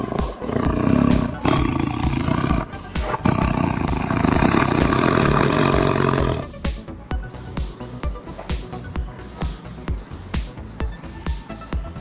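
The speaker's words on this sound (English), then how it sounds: "Wow, tiger. Orange and black color tiger." A tiger roars loud and close for about six seconds, then lets out a series of shorter, quieter growling bursts in an uneven rhythm.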